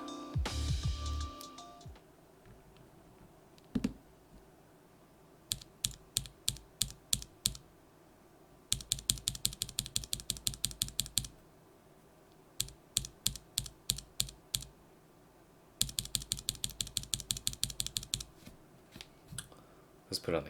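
Everglide Bamboo Green tactile keyboard switches pressed without keycaps, with single sharp clicks alternating with rapid rattling bursts of repeated presses, close and crisp, after a short stretch of handling noise.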